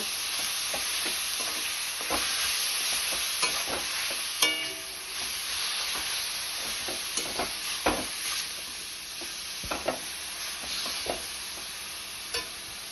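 Food being mixed in a pan for a Bengali ash gourd and moong dal dish, with a steady low sizzle and repeated sharp spoon scrapes and clinks at irregular intervals, close and fairly quiet.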